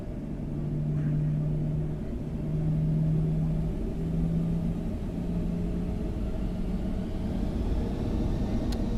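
Boeing 737 jet engines spooling up in the X-Plane 12 flight simulator, a loud, steady low rumble and drone with a faint pulsing hum that holds throughout.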